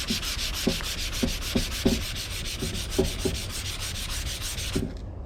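Rhythmic rubbing strokes of a coarse 500 scuff pad across car body filler during dent repair, steady back-and-forth scuffing close up with light thumps at each stroke, then stopping abruptly near the end, with no talking.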